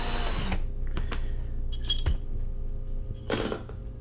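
A power drill spins a beeswax-lubricated bit in short, harsh bursts, one at the start and another near the end, with clinks and shuffling in between.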